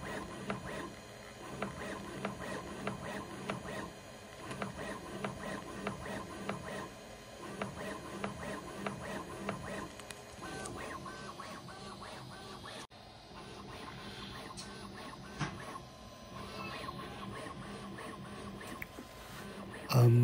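A Bambu Lab A1 Mini 3D printer at work, with soft whirring stepper motors and faint rhythmic mechanical ticks, fairly quiet and continuous across the clip.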